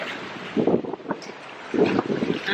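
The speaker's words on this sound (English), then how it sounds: "It's a little windy today." Gusty seaside wind buffets the microphone in uneven low bursts, with surf washing in the background on a breezy Cancun shore.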